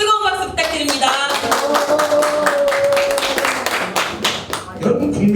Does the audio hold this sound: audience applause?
yes